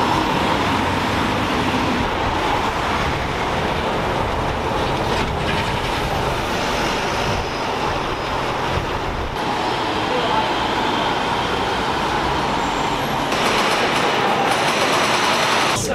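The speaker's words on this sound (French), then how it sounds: "Il y a beaucoup de circulation aussi, la vache." Heavy road traffic streams past Wellington Arch in London, a dense, continuous roar of vehicles with rising and falling surges and voices faintly mixed in.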